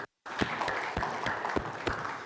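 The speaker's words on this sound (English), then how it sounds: "We should clap for this guy." After a brief moment of silence, a small audience starts clapping for a man, with a handful of distinct claps ringing out over a soft, steady patter from the rest of the room.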